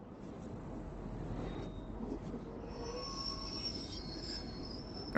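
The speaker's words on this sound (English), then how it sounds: "Sounds like brakes. That's a train crossing." Steady high metallic squeal of train brakes or wheels at a rail crossing, sustained over a constant rumbling background, loud and continuous, with insect-like chirping textures mixed in.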